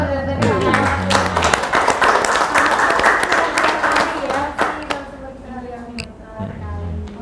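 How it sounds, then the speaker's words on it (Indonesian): A school audience applauds, a dense burst of many hands clapping that builds quickly, holds for several seconds and then thins out as talking resumes. "Kita pengen tepuk tangan dulu boleh ya?"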